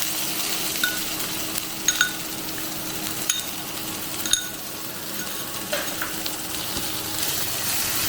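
Ground pea paste for kachori fries in a pan with a continuous soft sizzle, punctuated by a few sharp clinks of a utensil against the pan, close and without voices.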